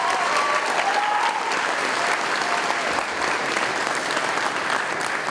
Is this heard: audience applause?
yes